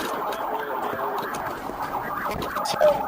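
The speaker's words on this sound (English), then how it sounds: "The sirens all kicked on because they all went to drive." Muffled police car sirens wail and waver together at a distance as the cars start driving, with some voices mixed in.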